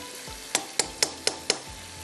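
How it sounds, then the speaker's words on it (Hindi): Chicken liver (kaleji) frying on a high flame, a steady close sizzle broken by five sharp, evenly spaced stirring scrapes or clacks, with no talking. "अब तेज़ आग पर इसको मैंने अच्छी तरह से भुनाई इसकी कर देनी है"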